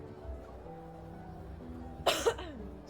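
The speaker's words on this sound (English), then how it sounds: "And the little coughs and throat clearing and sniffles." A person with allergies gives a short, sharp cough and a quick throat clear near the end of an otherwise quiet moment, close and soft.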